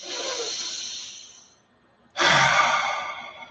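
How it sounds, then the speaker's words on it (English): Two long, deep breaths taken close up: a slow airy exhale, a brief pause, then a stronger, louder breath of similar length. "Nice deep breath."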